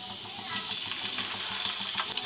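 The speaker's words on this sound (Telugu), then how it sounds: "ఆయిల్ హీట్ అయింది కదా, ఇప్పుడు మనం కలిపి పెట్టుకున్న చేపల్ని ఆయిల్లో వేసేసుకుందాం." Small marinated fish frying in hot oil, a steady, dense crackling sizzle with a watery, rushing texture, constant and fairly quiet throughout.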